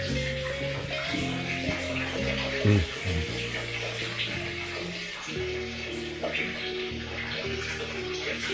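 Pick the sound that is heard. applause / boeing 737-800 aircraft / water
water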